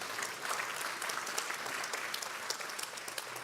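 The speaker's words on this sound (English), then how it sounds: "Oh, round of applause there" An audience at a European climate-finance awards panel applauds in one steady round of clapping, fairly soft and even throughout with no voices over it.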